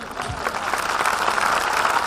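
An indoor audience at a motivational business meeting applauds, a steady roar of many hands clapping that swells slightly and holds throughout, with no voices on top.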